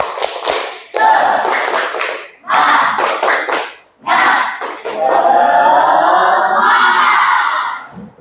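An audience performs a rhythmic Indonesian spirit clap at an Islamic religious education teaching session, with bursts of group clapping mixed with loud voices chanting and cheering, ending in sustained crowd vocalizing.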